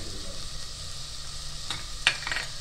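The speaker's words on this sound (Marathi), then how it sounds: "आता हे सगळे मसाले मी एकजीव करून घेते." Ground spices, including homemade masala, coriander-cumin powder and Everest sambar masala, are stirred together in a hot pan for chakolya, giving a soft, steady sizzle broken by a few sharp spoon clinks near the end.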